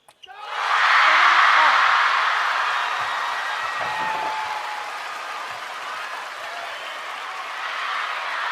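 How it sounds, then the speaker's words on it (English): Applause from the bench at a WTT Champions Series men's table tennis quarterfinal in Chongqing: clapping swells quickly and stays dense and sustained for several seconds, easing slightly while continuing to the end. "The bench applaud."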